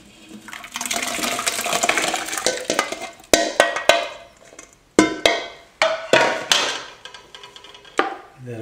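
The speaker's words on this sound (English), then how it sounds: "Give that a quick stir." Tomatoes being stirred in a pan for a velouté, a sizzle followed by a series of sharp clinks and scrapes of a utensil against the pan, close and distinct.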